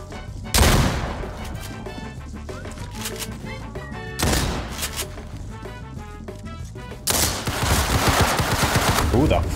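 Gunfire in Roblox Criminality, including an AK, comes as three loud bursts of rapid shots separated by quieter stretches, with a voice talking over the action.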